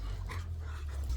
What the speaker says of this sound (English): you're a big dog